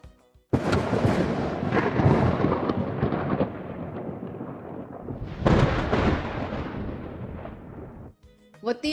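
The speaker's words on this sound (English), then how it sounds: "this is called thunder" Thunder booms in two long rolling peals, each starting with a sharp crack and then rumbling away for several seconds, loud and close, with a short quiet gap between them.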